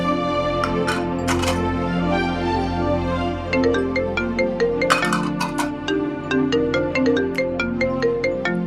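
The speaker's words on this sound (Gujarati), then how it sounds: "આ તો શારદાનો ફોન" A phone ringtone plays a bright repeating electronic melody throughout, steady and clear with no talking over it.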